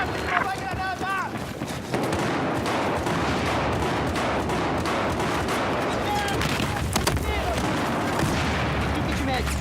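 Gunfire and a grenade blast in the video game Battlefield 4, with steady loud shooting over a continuous battle din throughout and a voice calling out in the middle of the combat.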